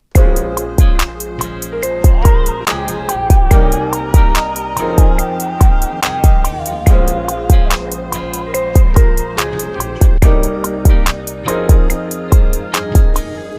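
A sampled music loop plays with punchy drums added, steady kicks and crisp hi-hat ticks driving a regular rhythm, loud and upfront.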